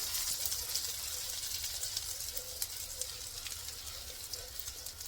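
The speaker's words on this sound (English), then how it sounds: "you want to let that garlic saute for about" Garlic sautéing in a pan over medium heat gives a soft, continuous high sizzle with faint crackles, fairly quiet and steady, with no voices.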